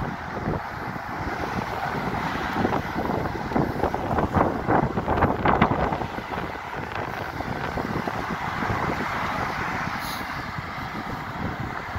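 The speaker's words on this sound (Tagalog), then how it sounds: "pero malakas ang hangin." Strong wind blows near the high bridge at Deception Pass by Oak Harbor, roaring and buffeting the microphone in a loud, continuous rumble with gusty swells and no voices.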